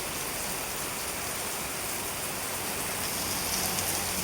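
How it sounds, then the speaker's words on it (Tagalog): Heavy rain falls steadily in Camarines Sur, a dense, even hiss of downpour on surfaces that continues unbroken and fairly close, with no voices. "Malakas ang ulan."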